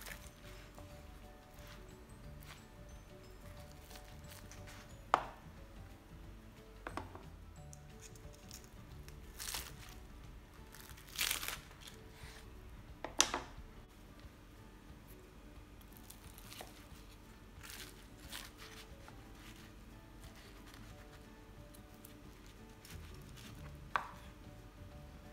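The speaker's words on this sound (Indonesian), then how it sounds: "Saya mau potong yang ini. Tuh, bunyinya kedengeran kan? Crunchy banget." A knife cuts through crispy fried martabak telor pastry filled with egg and instant noodles. Scattered sharp crunches and taps come every few seconds in a quiet kitchen, some louder and some faint, with no one talking.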